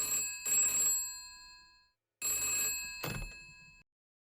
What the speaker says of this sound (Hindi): फोन बजा।